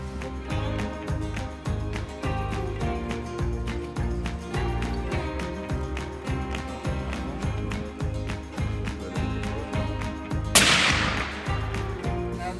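At a shooting range in Sweden, a single loud rifle shot cracks near the end, cutting sharply over continuous rhythmic background music.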